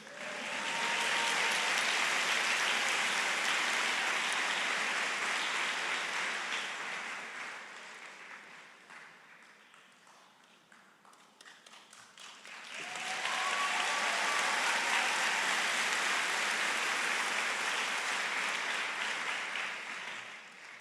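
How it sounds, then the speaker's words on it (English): Applause at a university commencement ceremony, a large audience clapping loudly and steadily. It fades to near quiet in the middle, then swells again into a second sustained round of clapping. "you can definitely clap for each one of these"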